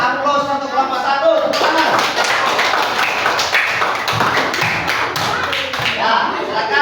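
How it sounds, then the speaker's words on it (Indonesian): Classroom applause for the first student group, a burst of clapping from many pupils that follows a teacher's speech, with rapid overlapping claps and some thumps. "kita berikan aplaus untuk kelompok 1"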